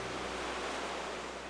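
Ocean surf breaking at the foot of Banzai Cliff, heard as a steady, dense roar of rushing water with no distinct individual wave crashes, unbroken and fairly quiet throughout.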